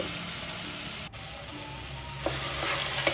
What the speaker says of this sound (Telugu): ఈ మసాలా అంతా కూడా పచ్చివాసన పోయేంత వరకు కూడా ఫ్రై చేసుకోవాలి